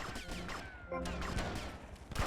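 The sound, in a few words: gunfire in the video game GTA Vice City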